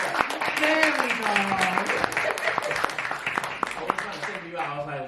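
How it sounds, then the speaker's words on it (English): An audience at a cast and crew Q&A claps together in a steady patter of many hands, while voices talk and call out over the clapping throughout. "why don't we all clap? All right, yeah, let's all clap."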